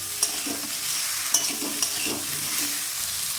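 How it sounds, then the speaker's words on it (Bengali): A spatula stirs prawn and potato curry in a pan just after salt goes in, scraping and sizzling steadily with a few sharper clinks, close and alone without talk. "স্বাদ মতো লবণ দিয়ে দিলাম, দিয়ে নেড়ে দিলাম।"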